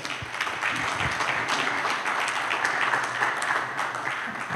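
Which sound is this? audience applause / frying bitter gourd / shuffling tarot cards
audience applause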